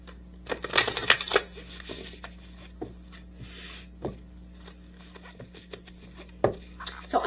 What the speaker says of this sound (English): Let's grab another one of the healing cards.